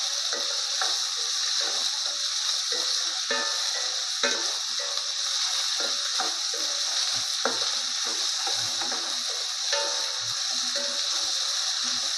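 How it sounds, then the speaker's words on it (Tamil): Steady, loud sizzling of tomatoes frying in a pan, with occasional stirring scrapes and clinks throughout. "தக்காளி நல்லா வணங்கிருச்சு"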